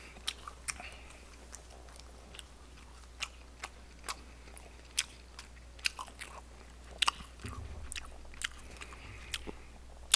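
Close-up eating of pork bulgogi with green onion kimchi: scattered sharp bites and crunchy chewing at irregular intervals over a low steady hum, with no talk.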